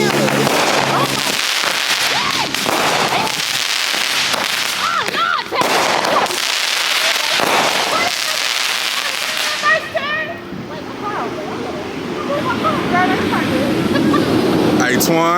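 Fireworks and firecrackers going off outdoors at a family celebration, sharp cracks and pops recurring through the whole stretch with people talking and shouting over them, plus crackling bursts later on.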